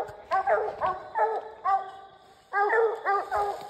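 Hunting dog barking during a night coon hunt: a series of about eight sharp, evenly spaced barks and yips at moderate distance, with a brief pause midway.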